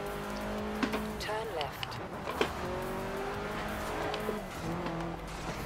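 A Subaru revs and accelerates in the video game Forza Horizon 4, its engine whining up through the gears with rising pitch sweeps and brief tire squeals, while someone talks over it.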